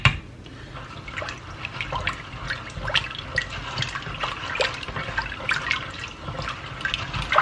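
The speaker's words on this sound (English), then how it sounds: "I'm going to add enough water to cover them." Water splashes and trickles steadily into a pot of beans on the stove, a continuous close pouring sound with small drips and gurgles, and no one speaking.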